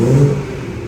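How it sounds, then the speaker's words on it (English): A BMW 440i M Sport Auto engine revs loudly and close up, a brief rising surge that settles back toward a steady idle hum. "we've got the car running"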